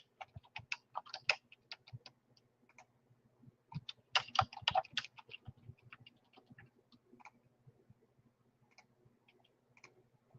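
Someone types a password on a computer keyboard while installing Windows 10 in VMware: quiet, close key clicks in irregular bursts with short pauses, no talking.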